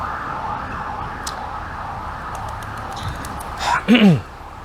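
A police car siren wails in a city square in Lviv, rising from a distant hum to a loud, close sweep near the end over steady street noise, with a voice speaking briefly.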